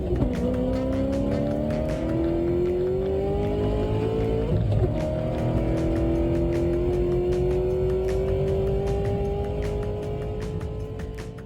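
American muscle race cars roar around a track, engines droning with steady rising pitch as they accelerate, loud and continuous, with a brief passing swell midway.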